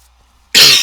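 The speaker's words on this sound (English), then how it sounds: "I do apologize for my coughing" A single harsh cough bursts in suddenly after near silence, loud and close, with a rough, noisy burst lasting a fraction of a second.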